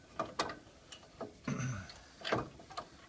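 Ratchet driving 18 mm caliper bolts back in on the front brakes of a 2001 Ford Expedition, a few faint, irregular clicks and short bursts of turning in a quiet space.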